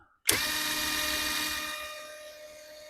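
A Grosser GID 230N cordless impact wrench switches on at first speed and gives a sudden, close motor whir that holds steady, then slowly fades over a few seconds.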